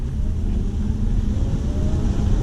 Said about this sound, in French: vous pouvez accélérer pleine patate dans l'accélérateur